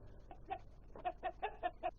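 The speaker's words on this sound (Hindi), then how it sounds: "मुर्गियों के बारे में ऐसी कोई भी बात नहीं है जो मैं जानता ना हूँ।" Cartoon chickens cluck in a quick run of about eight short, bright clucks, close and clear against a quiet background.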